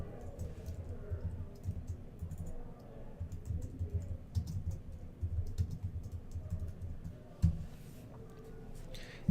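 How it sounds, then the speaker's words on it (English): Computer keyboard typing as text is entered, a run of soft, irregular key clicks over a low background hum, fairly quiet and close, with one sharper tap near the end. "I'll go in and type in my title."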